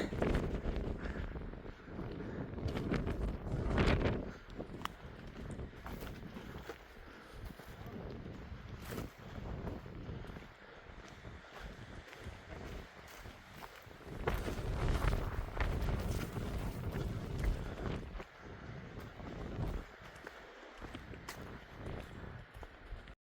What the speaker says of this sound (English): there's just too much wind